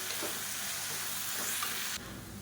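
Roasted peanuts are stirred and tossed in a hot frying pan on a gas stove while making peanut chutney, a steady scraping sizzle heard alone with no voices.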